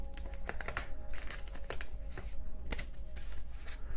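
Tarot cards gathered and shuffled together off a reading board, a steady run of papery slaps, riffles and crinkles close to the microphone with no talking.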